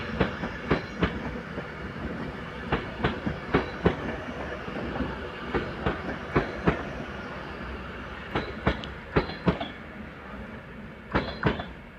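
An Avanti West Coast Class 390 Pendolino, unit 390.011, pulls out of Crewe on the West Coast Main Line, its wheels clicking over rail joints in a steady, irregular series of sharp clacks above a continuous rolling rumble.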